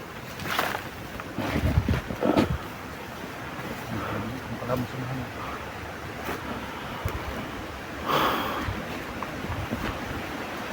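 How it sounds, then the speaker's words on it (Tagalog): Strong wind buffets the microphone in gusts, with broadband rumble swelling and easing over open water, and a few brief voices in the background. "Lakas ng hangin."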